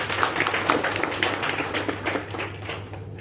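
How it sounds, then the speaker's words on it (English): Applause from an audience at a youth peace and tolerance event in Zimbabwe, a modest scattering of hand claps over a low steady hum, tapering off toward the end. "Give him another round of applause."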